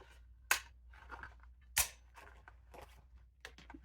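Two sharp snaps of a 2-inch paper punch cutting card medallions for a tri-fold craft project, each a crisp close click with quiet rustling and handling of paper between them.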